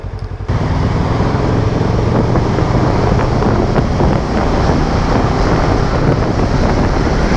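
Heavy wind buffeting the microphone on a motorcycle ride in cold weather, a loud constant roar that starts abruptly after a brief quiet moment and carries on steadily with no talk.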